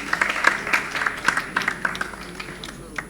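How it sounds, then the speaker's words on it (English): A burst of clapping for quiz teams from a room full of people at a regional quiz round, steady and fairly loud, fading slightly toward the end. "Round of applause for all teams."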